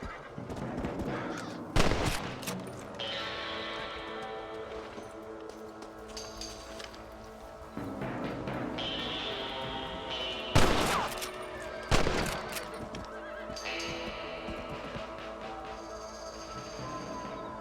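Rifle gunfire in the Western video game Red Dead Redemption, several sharp loud shots spaced apart over horse whinnies, hoofbeats and a continuous game soundscape.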